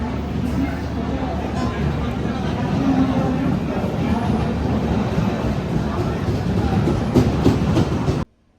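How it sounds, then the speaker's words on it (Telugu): An evening AC express train bound for Sabarimala from Nellore rumbles along steadily with continuous rolling wheel noise and clatter from start to finish, and voices can be heard faintly amid the din. "ఇదండి ఇదే ట్రైన్"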